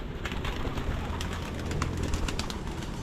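Pigeons or doves on a farm coo repeatedly, their soft calls layered over a steady outdoor background at moderate level.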